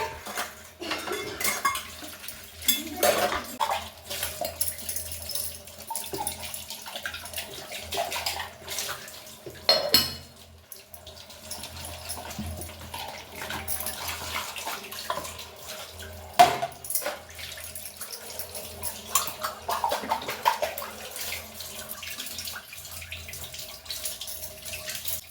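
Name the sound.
washing dishes in the sink with running water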